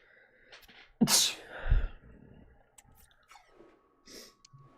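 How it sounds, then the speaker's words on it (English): A single sharp, close sneeze bursts out, followed by sniffing, breathing and small mouth noises in a quiet room. "I'm literally having a sneezing fit."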